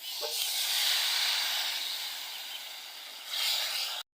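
Dried fish frying in a pan over a high flame hisses loudly as a splash of water is added, a sustained sizzle that eases slightly before a fresh burst near the end.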